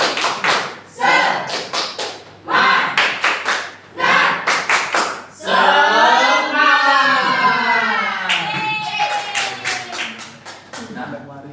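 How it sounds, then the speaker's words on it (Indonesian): A primary school class performs a rhythmic 'tepuk semangat' clapping chant, sharp bursts of hand claps in patterned groups, then children's voices chanting together loudly before the clapping resumes, close and energetic in a classroom. "Ayo, coba tepuk semangat."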